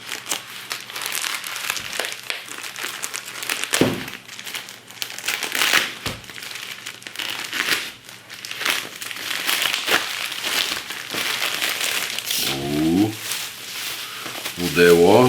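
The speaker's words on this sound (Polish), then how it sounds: "rozpakujmy tę folię, w której to przyjechało" Plastic foil packaging being pulled off a Garmin 935 Tri watch: continuous close crinkling and crumpling with sharp rustles, while someone talks and hums over it.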